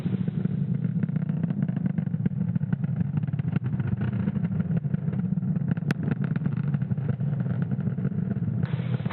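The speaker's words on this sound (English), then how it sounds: "Falcon 9 has successfully lifted off from Space Launch Complex 40 from the Cape at 11:35 a.m. Eastern Time." A SpaceX Falcon 9 rocket roars from its engines after liftoff from Space Launch Complex 40 at the Cape, a continuous loud, rumbling, crackling roar held steady throughout with no voices.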